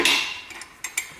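Light hammer taps on a rear bracket being fitted during a Daytona Coupe build, one sharper strike then two small metallic taps close by.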